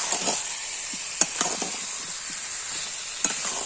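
Young jackfruit curry with potatoes, green chillies, dried chilli and chilli powder frying in a pot, giving a steady close sizzle and hiss broken by a few soft clicks of a utensil.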